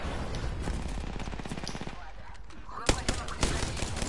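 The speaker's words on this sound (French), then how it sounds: "L'ennemi me tire dessus." Gunfire in an Apex Legends match, rapid automatic shots rattling steadily before a few louder, sharper single cracks near the end, with a voice talking in places.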